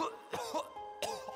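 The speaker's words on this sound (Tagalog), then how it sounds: "Panay naman ang ubo ni Kuya" A man coughs twice in harsh, close, fairly loud bursts separated by a short gap, with no speech around them.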